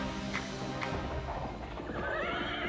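Horse on a wide Roman road, neighing twice early on over steady clip-clopping hooves that grow denser and more rhythmic toward the end, fairly loud and close.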